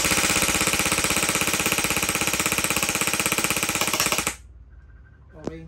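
Lancer Tactical G2-ME airsoft gun firing on full auto, a loud rapid-fire mechanical rattle of evenly spaced shots lasting about four seconds before it stops abruptly, followed by a faint click.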